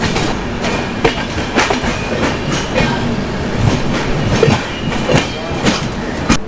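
The 22317 Sealdah–Jammu Tawi Humsafar Express rumbles loudly along the rails, its wheels beating out a steady, rhythmic clickety-clack close by.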